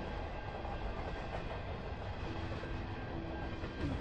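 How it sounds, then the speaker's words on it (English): A train passes in the small town of Vanderhoof, giving a steady, continuous rumble and rattle of rail cars that holds at an even, fairly faint level throughout, with no talking. "So the train just went by"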